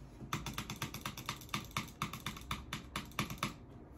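Fast, evenly paced clacking keystrokes on a new gaming keyboard, close and crisp, with roughly a dozen clicks per second for several seconds and no talking.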